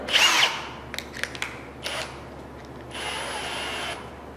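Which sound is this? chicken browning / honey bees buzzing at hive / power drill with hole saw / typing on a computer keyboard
power drill with hole saw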